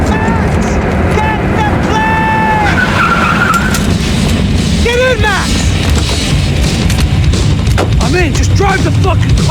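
Car tires skidding and screeching in Max Payne 3 during a chase, repeated sharp squeals over loud continuous engine roar and gunfire-like booms, with shouting voices in the mix.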